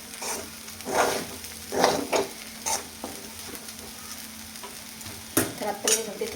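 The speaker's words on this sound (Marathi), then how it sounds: "2 ते 3 मिनटं परतून घेऊया." Sabudana khichdi being sautéed in a pan with a spoon. Repeated stirring scrapes over a steady frying sizzle come in uneven bursts, close and fairly loud, with no voices.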